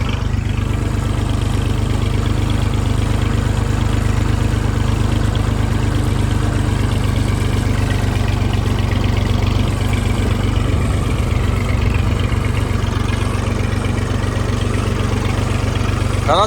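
A tractor engine idles close by with a loud, steady low rumble and throb that runs unbroken throughout, with faint outdoor background beneath it.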